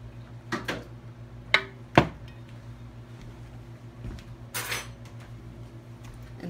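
Metal tablespoon clinking against a cup and dishes while yellow dye for microwave yarn dip-dyeing is measured out, a few sharp, quiet clicks at close range with soft handling noise in between.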